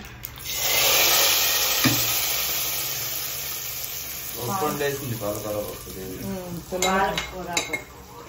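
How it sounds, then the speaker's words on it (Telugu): A tempering of spices hits hot dal with a loud hiss that fades slowly, followed by a scrape and stirring clinks of a spoon in the pot while someone talks. "ఇప్పుడు తాలింపు వేసేసుకుంటాను"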